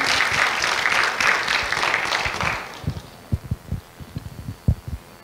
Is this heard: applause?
yes